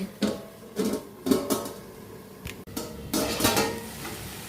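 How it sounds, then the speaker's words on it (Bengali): A kadai (wok) of frying greens being covered with its lid, producing a series of distinct metallic clanks and clatters spaced out over a few seconds, fairly close, with no talking. "এই কড়াইটা ঢাকা দিয়ে দেবো"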